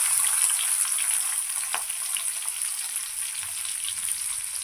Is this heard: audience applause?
no